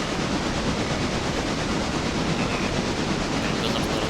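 Steady rumbling train noise in the video game Railroader, with a continuous rattling hiss, loud and unbroken throughout, no voices.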